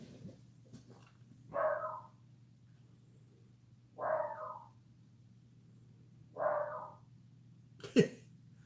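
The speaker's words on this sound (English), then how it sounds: "My beagle's alarm barking out the front window." A beagle alarm-barks three times out a front window at slow, even intervals, somewhat muffled and moderately distant, with a low background hum.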